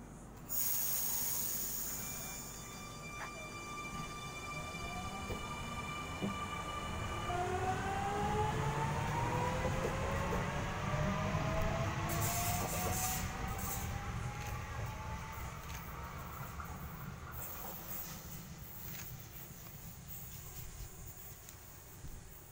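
A Millennium set M7 suburban electric train pulling out of a station on a Leppington service, with hissing brakes and rising motor whines climbing in pitch as it accelerates, then fading into a rumble as it leaves.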